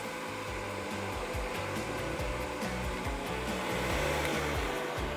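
A blender whirs steadily to purée forshmak, a loud continuous motor drone with a faint grinding texture and no pauses, close by.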